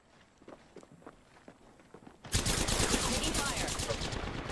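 Rapid automatic gunfire erupts in an Apex Legends match, a dense continuous burst of loud shots that follows a stretch of quick footsteps and movement.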